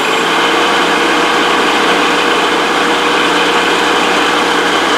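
A 5 HP three-phase electric motor spins at 70 Hz on a variable frequency drive, faster than its rating. It makes a loud, steady high whine with a constant hum and no change across the whole stretch.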